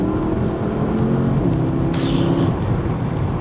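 A Porsche Panamera Turbo runs steadily with a continuous engine drone and a slight pitch change midway, heard from inside or close by, with no voices.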